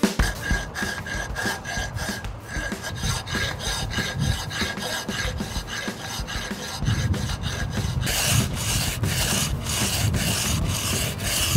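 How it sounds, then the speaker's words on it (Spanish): Sandpaper rasps against the rough edges of a freshly cast cement flower pot in steady back-and-forth strokes, close and fairly loud, growing brisker and denser toward the end. "Luego de lijar y quitar todas las asperezas en sus bordes"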